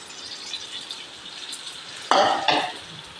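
Cabbage pakoda fries in hot oil with a steady low sizzle, then louder bursts of crackling as more batter drops into the pan, close by.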